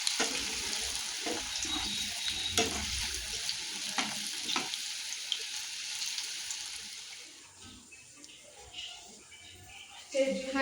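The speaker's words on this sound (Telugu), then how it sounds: "మనం ప్రిపేర్ చేసుకున్న ఈ బాల్స్ని బాగా హీట్ అయిన ఆయిల్లో వేసుకొని ఫ్రై చేసుకోండి" Cabbage manchurian balls deep-frying in hot oil, a dense bubbling sizzle with scattered clinks and splashes of a spoon that quiets toward the end, heard up close with some talking mixed in.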